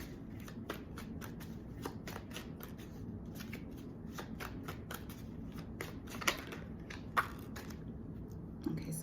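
A Rebel tarot deck shuffled by hand, quiet repeated card flicks and riffling snaps in an uneven rhythm with a few sharper clacks, heard alone at low level.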